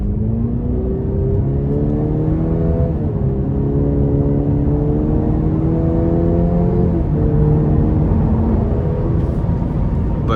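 A 2025 Cadillac CT5 Premium Luxury accelerates hard in sport mode, heard from inside as a loud, close engine rising in pitch through several gear changes over a constant road rumble, with no talk.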